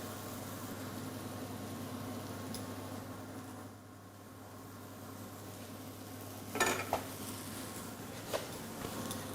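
A spoon clinks against a small shallow plate as risotto is served, a few light metallic taps near the end over a steady low kitchen hum, with no talking.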